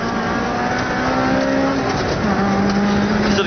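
A rally car on the Manx Rally accelerates hard out of a slow first-gear corner, its engine droning loudly and continuously, the pitch climbing steadily as it pulls through.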